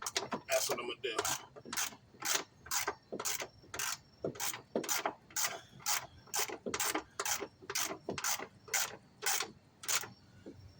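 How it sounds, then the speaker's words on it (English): Close, rhythmic ratcheting comes from a hand ratchet tightening front upper control arm bolts on a 2000 Acura TL, with about twenty evenly spaced clicking strokes repeating at a steady pace. "I'm now gonna take the ratchet, tighten them."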